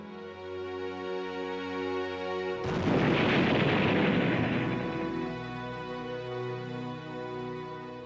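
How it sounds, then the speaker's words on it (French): A bomb hidden in a briefcase detonates in one sudden, loud blast that rolls on for a few seconds before fading into the low tonal backdrop that continues beneath it. "Lorsque la bombe explosa à 12h42"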